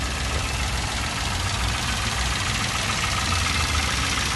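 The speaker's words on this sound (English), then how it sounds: "the engine's been running obviously since we started" A Toyota Aygo compact car engine idles steadily and smoothly, a constant close mechanical hum with no bangs or rattles, running alone without any voices.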